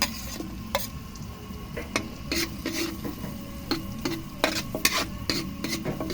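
Onion sautéing in butter in a pan hisses steadily while a utensil stirs and scrapes, giving sharp clicks and knocks at irregular intervals, close and alone.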